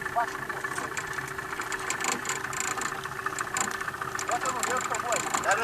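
A motor idles at the São João Marcos reservoir with a steady, droning hum and a faint tonal whine, running continuously while people talk over it.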